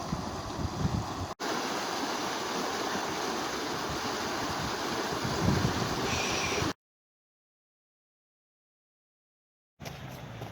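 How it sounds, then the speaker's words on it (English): Creek water rushing after rain at Kidds Creek in Barrie, a steady broadband roar with no talk, cutting off abruptly midway before a brief return near the end. "it is gushing here on Eccles and Sophia"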